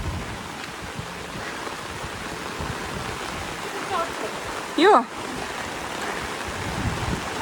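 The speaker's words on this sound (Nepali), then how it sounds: "छड्के पानी आएको हेर्नु न" Slanting, wind-driven rain sweeps across a foggy forested hillside as a steady, close hiss, with one brief voice and a short whistle-like cry rising over it near the middle.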